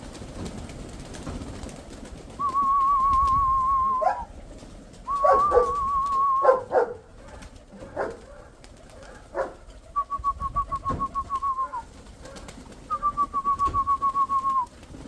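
Soft cooing and warbling calls of domestic pigeons repeat several times, with scattered background noise and thumps between them.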